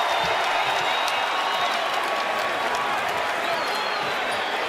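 Target Center crowd roaring at a Minnesota Timberwolves basketball game, a loud, steady wall of cheering and applause from a packed arena that sustains throughout without letting up.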